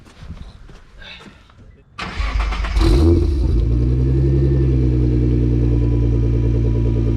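Nissan R35 GT-R Stage 2 tuned to 685 hp starts up after about two seconds of quiet, with a loud crank and catch that settles into a steady, rumbling idle heard close by.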